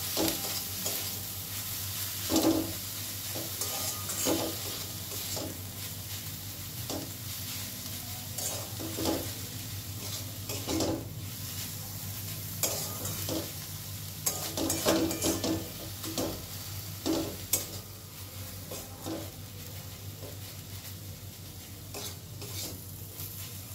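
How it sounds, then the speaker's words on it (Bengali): A breakfast mixture with fresh coriander leaves is stirred in a pan over a low gas flame, with repeated scraping strokes of a spoon against the pan above a continuous soft sizzle. "গ্যাসের ফ্লেমটাকে একদম লোতে রেখে সব কিছু ভালো করে মিশিয়ে নেব।"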